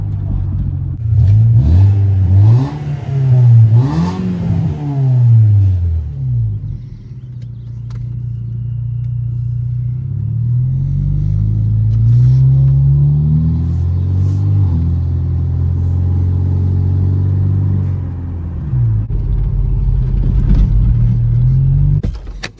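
A Mazda NB Miata with a two-row aluminum radiator drives through hills, its engine revving up and down in repeated rising and falling sweeps, then settling into a steady close drone before more revs.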